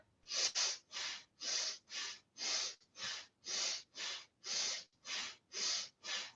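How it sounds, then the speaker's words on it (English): Fire breath exercise in a yoga class: a dozen quick, forceful breaths through the nose come in a steady, even rhythm. The breaths are close but fairly quiet, with no talking. "so we'll do a couple of different fire breath exercises."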